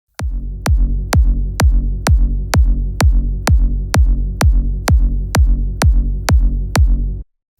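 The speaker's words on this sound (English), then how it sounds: "And all 5 together sound like this for the big room kick" Layered big room kick drum combining punch, sub and harmonic layers hits about sixteen times in a steady, even rhythm, each strike a sharp click over a deep booming tail, loud and isolated with no voices.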